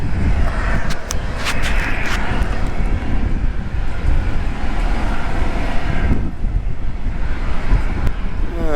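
A small private jet taking off at an airport, a loud continuous engine roar mixed with heavy wind buffeting on the microphone, sustained throughout.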